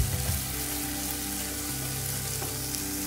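Small onions sautéing in a pan for a chicken roast, a dense, steady frying hiss that holds evenly throughout, close and fairly quiet.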